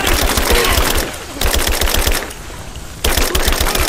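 Rapid automatic gunfire in the video game Rise of the Tomb Raider, a loud continuous rattling burst that briefly drops and returns, with dense battle noise throughout.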